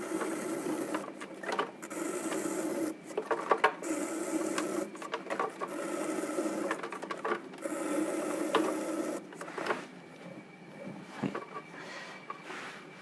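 A 30 cm clay plate is trimmed on an electric potter's wheel. The motor hums continuously while the blade scrapes and rasps in uneven bursts up close, with no voices.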